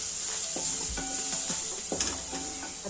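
Dry spices (salt, chili powder and turmeric) stir-fried in a pan for methi matar malai, with a spatula scraping in uneven strokes over a soft continuous sizzle, close by and with no talk.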